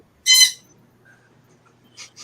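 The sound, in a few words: birds calling in the background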